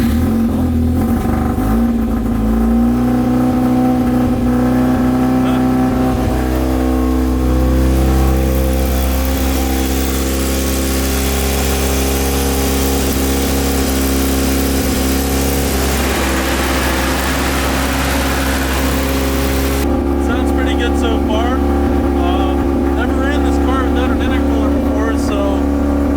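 A Mazda RX7 FC3S rotary engine fitted with a BNR hybrid turbo runs and revs loudly close by for a long stretch, rising and shifting pitch, with voices talking over it.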